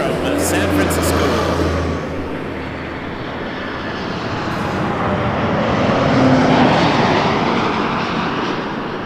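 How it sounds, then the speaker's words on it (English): A Boeing 737 MAX 8 airliner arriving from San Francisco roars steadily and loudly throughout, its jet engine noise swelling slightly toward the end, with a brief low rumble at the start. "Let's catch this MAX 8 in first from San Francisco"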